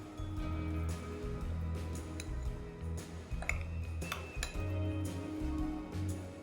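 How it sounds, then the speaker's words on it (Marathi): Yogurt chutney for sabudana thalipeeth gets stirred in a bowl, a spoon scraping and tapping steadily against the sides, close up over a low background hum. "आता आपण याला मिक्स करून घेऊया."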